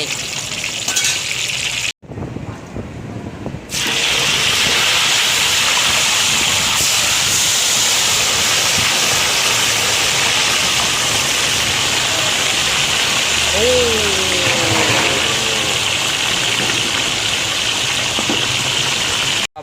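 Tilapia fish deep-frying in hot oil for a rice-and-curry shop, a loud, steady, gushing sizzle that runs on after a brief cut near the start, with a short stretch of voice partway through.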